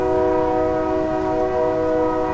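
A train rolls past nearby, a steady loud rumble with a sustained horn-like tonal drone running unbroken throughout.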